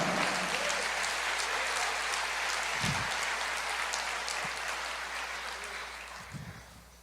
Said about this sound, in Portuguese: Não importa se tem demônio, pode aplaudir